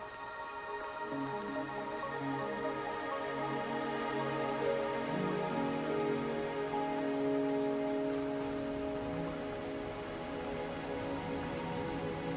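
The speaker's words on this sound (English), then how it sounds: "Are you trapped here by the rain?" Steady rain falls in the video game Wuthering Waves, a constant hiss of drops on surfaces under a sustained musical tone.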